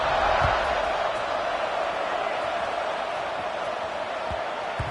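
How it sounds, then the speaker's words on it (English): A football stadium crowd at a Northwestern at Syracuse game buzzes loudly after a score, a broad steady murmur of cheering voices with a few faint thumps underneath. "this crowd is buzzing after that last score"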